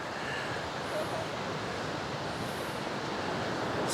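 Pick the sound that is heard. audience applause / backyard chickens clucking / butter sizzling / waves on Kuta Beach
waves on Kuta Beach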